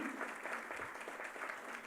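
Steady applause from an audience at a publisher's anniversary award ceremony honouring a couple, moderately distant and continuous for two seconds.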